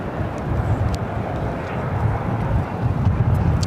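A JetBlue Airbus A321 arriving at LAX from Boston in extreme winds gives a continuous low jet rumble mixed with gusty wind buffeting, fairly loud throughout.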